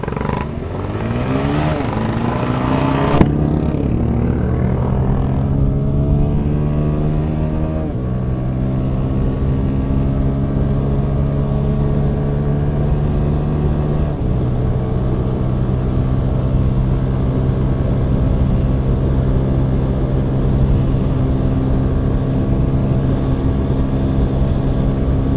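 A TVS Apache RTR 200 4V motorcycle engine accelerates hard, its loud close drone climbing in pitch and dropping back at each of several gear shifts, continuous with no talking.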